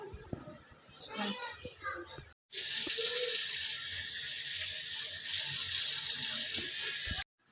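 After a face pack, a running tap splashes loudly and steadily as water is cupped onto the face, following a few seconds of talk with a voice in the background.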